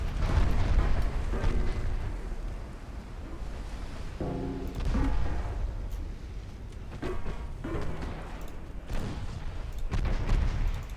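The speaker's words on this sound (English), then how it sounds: "Still going to hit it with 3, maybe 4 torpedoes." Several heavy torpedo impacts boom against a ship in a naval strategy video game's Portugal campaign, deep explosions rolling out one after another across the stretch with rumbling aftermath between blasts.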